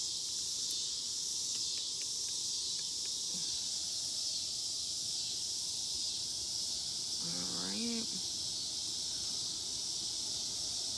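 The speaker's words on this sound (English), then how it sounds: "These cicadas, man." Cicadas buzz in a loud, steady, continuous drone that fills the whole stretch, with a brief faint voice-like sound rising near the end.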